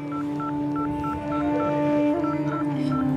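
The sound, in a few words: dialing a telephone number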